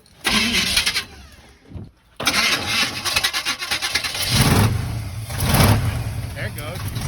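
A 1980 Chevy K30 truck engine cranks and starts in a blizzard, loud and close, with bursts of mechanical noise, a brief pause, then a steady rough running sound, with people talking around it.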